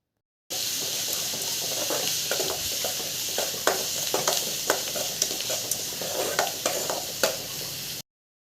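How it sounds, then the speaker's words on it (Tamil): Onions and curry leaves sauté with turmeric in hot groundnut oil, a continuous sizzle broken by repeated scraping clicks of a spoon stirring the pan at an even rhythm, close and steady. "மஞ்சள்தூள் 1 ஸ்பூன் ஆட் பண்ணி நல்லா வதக்கிக்கோங்க"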